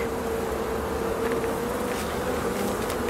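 Arataki honey bees being hived swarm with a dense, continuous buzzing drone, close and steady with no voices.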